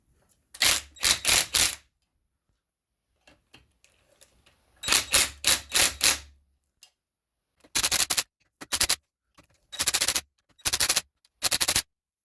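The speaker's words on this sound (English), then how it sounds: "We're just going to put on with the rattle gun." An impact wrench fires short rattling bursts as it runs flywheel bolts onto a Vauxhall Corsa CDTi 1.3 with the engine out, several loud hammering rattles separated by pauses, with no talking.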